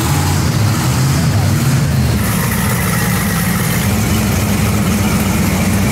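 A 1,000 hp Halo Warthog replica's engine idles with a rough, loud low rumble and broad mechanical noise, while people talk over it.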